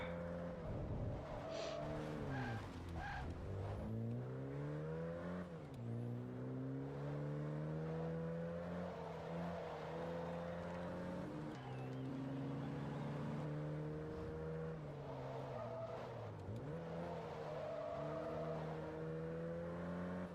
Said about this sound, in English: God, this engine sounds so good